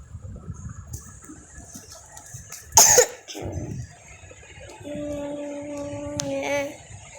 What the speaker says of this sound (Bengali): আমি কাশতে কাশতে মরে যাচ্ছি।